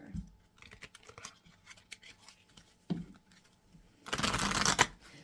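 Tarot cards are handled and pulled with soft papery flicks and slides, ending in a louder riffling shuffle burst close by.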